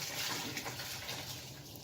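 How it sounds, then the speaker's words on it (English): A wet mop is wrung out by hand, giving a faint, soft rush of water draining and splattering for a couple of seconds. "this is a mop right here. And all you gotta do is just wring it on out."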